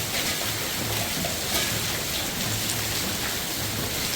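Hailstones pelt a boat in a dense, unbroken patter, a soft, continuous rattle of ice striking the surface with no voices.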